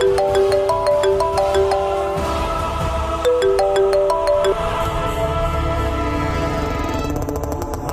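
A mobile phone plays a melodic ringtone for an incoming call, with a short electronic tune repeating twice at steady volume and a brighter shimmer near the end.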